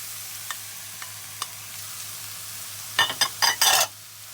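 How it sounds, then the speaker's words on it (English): Grated carrot and courgette sauté in a pan with parsley and garlic under a faint sizzle, then several loud scraping stirs come in quick succession near the end. "And we saute that as well."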